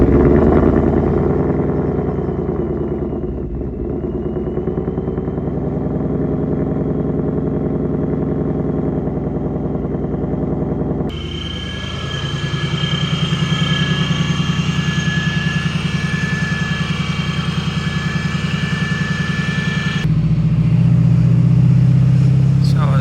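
A Ford Mustang engine cold-starts and settles into a loud, steady idle, the tone shifting abruptly partway through as revs change; a voice speaks briefly over the engine.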